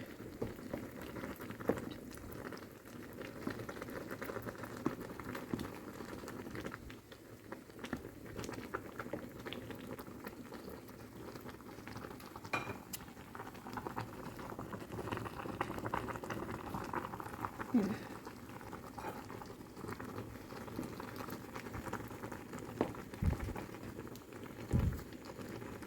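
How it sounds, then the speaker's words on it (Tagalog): A mushroom dish boiling uncovered in a pot, a continuous close bubbling with scattered small pops and patter that carries on steadily for the whole stretch. "Kuluin lang muna natin."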